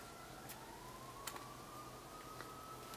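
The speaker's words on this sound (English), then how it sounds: "freaking sirens!" A faint, distant siren wails in a slow rising tone, thin and steady against a low background hum, with no voices.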